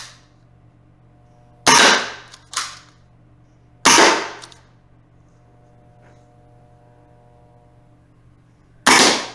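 Silenced PMI pistol with a backslide-action tracer mod firing four sharp, cracking shots spaced irregularly, each close and loud with a short decay, against a low steady hum.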